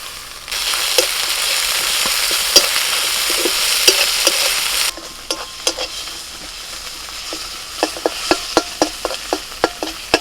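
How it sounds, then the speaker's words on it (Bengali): Ginger garlic paste frying in a pan, with a bright, loud sizzle for several seconds that then drops to a quieter fry broken by sharp pops and spatters, close by. "আদা রসুনটা ভাজা হয়ে গেছে।"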